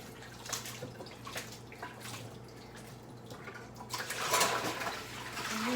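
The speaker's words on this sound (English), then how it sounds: "So right now I'm just rinsing them off in hot water," Asparagus spears rinsed under a hot running kitchen tap, with a steady wash of water and soft irregular drips and splashes that swell louder near the end, no talk over it.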